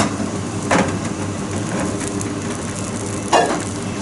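Roast juice reduces in a saucepan with a soft, steady simmering hiss. Two brief scrapes or clinks stand out, and no voices are heard.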